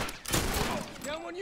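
A quick flurry of gunshots in The Last of Us Remastered online match, a dense crackling volley lasting about a second, loud and near, with voices talking over it.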